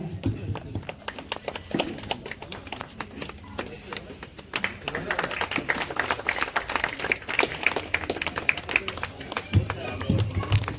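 Audience applause at a book launch felicitation, a crowd's clapping rising in density into a fuller ovation, with a voice talking over the start.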